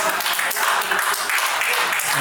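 Guests clapping together at a child's first birthday party, a busy, fairly even patter of hands with a background voice murmuring beneath it.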